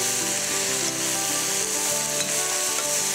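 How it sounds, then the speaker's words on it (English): Onions sautéing with salt in a hot pan, a steady, dense sizzle and frying hiss that stays close and even for the whole stretch, with faint stirring scrapes and no voices. "we talk about sauteing things like onions, we need salt to go in immediately."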